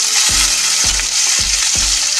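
Chopped onions fry in a pan for a Bengali chilli chicken dish, with a loud steady sizzle and four regular stirring scrapes spaced about half a second apart.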